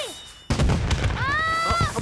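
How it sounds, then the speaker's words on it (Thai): A sudden loud bang followed by crackling bursts and a whistling rise, with a voice chattering underneath. "เจอพลุเสียงดังมากมา"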